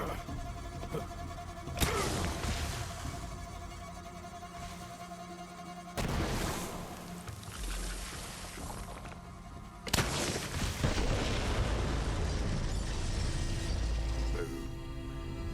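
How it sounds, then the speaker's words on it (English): Video game explosions from Borderlands 3 set off in a forest, three sharp booming blasts spaced several seconds apart, each followed by a long rumbling, crackling decay that lingers before the next. "The explosion echoed through the forest"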